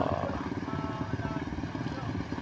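Motorcycles ride through high tidal flood water in Bulakan, giving a low, rough engine rumble mixed with a steady churning wash, close and continuous.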